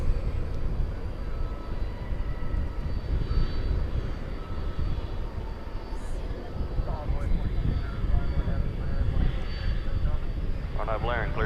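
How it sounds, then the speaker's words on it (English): At night at DFW Airport, the jet engines of a 14-year-old Sun Country Boeing 737-800 roar steadily as a loud, continuous wash of sound, with people talking over it. "charter flight 8420 Sun Country. It's a 737-800."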